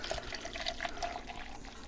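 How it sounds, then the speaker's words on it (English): Water runs from a tap into a bottle, a close, continuous bubbling trickle with small gurgles over a couple of seconds, no voices. "So I fill it up with water"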